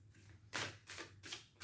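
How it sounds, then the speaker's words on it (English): A deck of cards being shuffled up close, three quick riffle bursts with short pauses between them, quiet and without speech. "3 more shuffles and then I will cut the deck."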